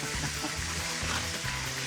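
Chicken browns in a pan over high heat for arroz con pollo, giving a steady, close, moderate sizzle that crackles evenly with no talking.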